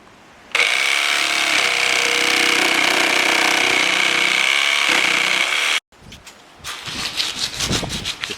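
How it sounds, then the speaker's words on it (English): A reciprocating jigsaw cuts through thick oak wine barrel staves, a loud, continuous buzzing rasp lasting about five seconds, then stopping, followed by sharper scraping and clattering noises. "I'm using a reciprocating jigsaw, which makes the job of cutting it out much easier."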